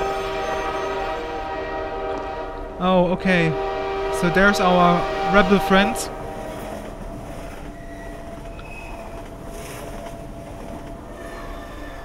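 A train in a Half-Life 2: Episode 2 forest mod rumbles along with a steady tonal drone, while someone talks over it for a few seconds before the engine hum carries on alone.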